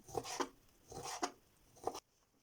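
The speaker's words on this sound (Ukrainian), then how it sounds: "почищу та наріжу рибу" A knife cuts through soft fish flesh on a board in three distinct strokes, cubing it, each a short scraping slice with a firm tap, then quiet.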